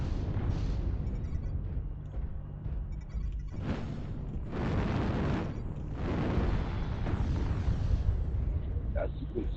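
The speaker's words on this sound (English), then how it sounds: "Artillery strike on." Artillery strike explosions in the mech combat video game MechWarrior Online: a series of heavy, rumbling blasts roll one after another, some swelling louder around the middle, with game radio voices mixed underneath.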